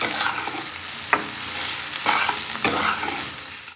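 A mixture frying in a pan ahead of beaten egg being added, with a steady broadband sizzle and a few sharp scrapes of stirring spread through a short stretch; no talking.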